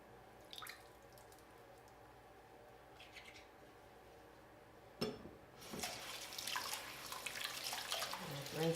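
Tap water running as a makeup brush is rinsed under the faucet, with a few faint drips early on and then a louder, steady splashing stream near the end.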